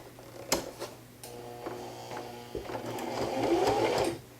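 A sewing machine stitches flannel quilt squares together for a beginner raggy quilt, running in short bursts that build into a steadier, louder whirring run near the end, heard close up with no talking.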